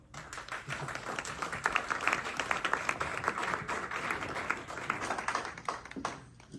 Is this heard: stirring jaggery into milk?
no